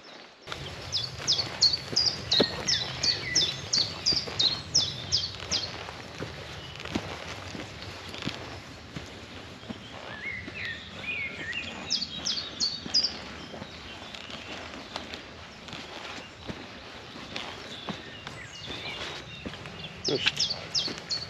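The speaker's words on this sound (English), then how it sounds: "one of my favourite bird songs is well in tune in the distance there, a chiff chaff." A chiffchaff sings in the distance in Mortimer Forest in spring, its short repeated high chirping phrases recurring faintly amid other bird calls and woodland ambience, with rustling and movement nearby.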